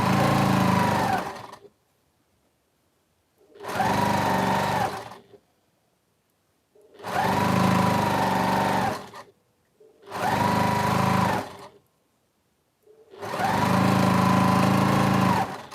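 A sewing machine stitches fabric in five loud, even bursts of rapid mechanical whirring, each about a second or two long, separated by short silences.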